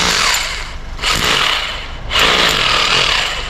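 A rotary hammer drill runs with no load, powered through a Chinese inverter, in loud close bursts of rapid hammering broken by two short pauses where the tool lets off.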